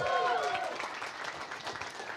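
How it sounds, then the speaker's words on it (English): Crowd at a stand-up comedy night claps for the venue, the Hive, in a short steady burst of applause with faint voices mixed in. "How about a round of applause for the Hive?"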